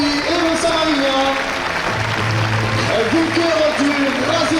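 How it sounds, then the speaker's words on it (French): Applause from a crowd at the finale of a course camarguaise (Camargue bull-game) in Beaucaire, steady clapping under an announcer speaking over a loudspeaker throughout. "Un tonnerre d'applaudissements s'il vous plaît pour Youssef Zekraoui et Vincent Marignal"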